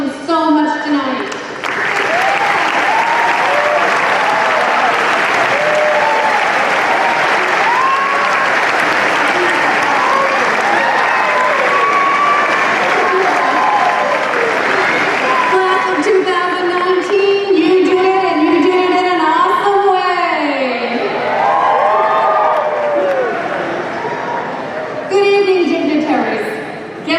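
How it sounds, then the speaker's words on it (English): A crowd of graduates at a 2019 Medford High School commencement claps loudly and steadily for nearly half a minute, with cheers and shouts rising through the sustained applause. "I hope that all of you could stand up and give each other a round of applause"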